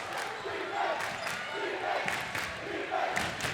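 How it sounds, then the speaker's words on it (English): A rowdy high school crowd, the Big Reds student section, roars and cheers steadily from the bleachers at a varsity boys basketball game, a dense loud din with swelling shouts throughout. "This crowd, this rowdy red zone is getting hyped, and I wouldn't blame them."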